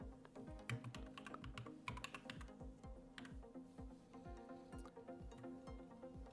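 Fingers tap out a short phrase on a computer keyboard while setting up a health and wellness site in Squarespace: a quick, steady run of close, crisp key clicks with no talk.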